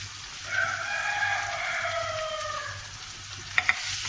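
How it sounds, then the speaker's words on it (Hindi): Minced meat and onion frying in a pan make a steady close sizzle. A drawn-out tonal call like a rooster's crow sounds in the background, and two quick sharp clinks come just before the end. "5 मिनट के लिए इसे फ्राई करना। कीमा थोड़ा सा फ्राई हो गया।"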